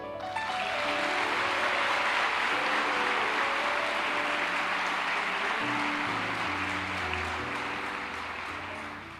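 A church congregation bursts into sustained, dense applause during a sermon, loud and continuous with soft musical tones underneath before it slowly thins out.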